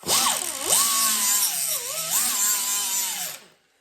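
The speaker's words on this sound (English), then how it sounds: "this AirCat angle die grinder. Yeah, it's so much better than the one I had before because it's quiet and powerful" AirCat air-powered angle die grinder stripping old primer from rust-repair metal on a 1970 Chevrolet rocker panel, a loud high whine that rises and dips in pitch as it bites the edges, then cuts off abruptly.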